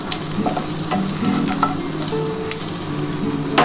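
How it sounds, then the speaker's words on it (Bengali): Garlic and dried chilli sizzle in hot oil in a pan for a fried water spinach dish, with a loud, continuous crackle close by and occasional clicks and scrapes as the contents are stirred. "আগে রসুনটা একটুখানি ভাজা ভাজা হলে পেঁয়াজটা দেবো।"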